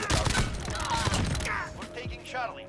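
Rapid Uzi submachine gun bursts in Modern Warfare, a dense run of automatic fire over the first half before fading into scattered in-game sounds, with a voice talking over it.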